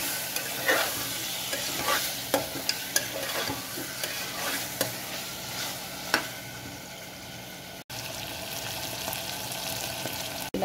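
Mutton for an Andhra-style mango mutton curry sizzles and fries in a pan while a metal ladle stirs it, giving repeated scraping knocks over a continuous soft crackle, close and fairly quiet.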